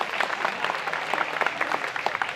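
Audience applause at a school prize-giving ceremony in a village, steady clapping from a sizeable crowd lasting throughout, moderately loud with dense overlapping claps and no talk.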